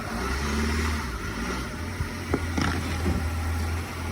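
A 2014 Nissan Altima with a flat front tire idles at a towing auction, a steady low engine drone running throughout with faint clicks and rattles over the top.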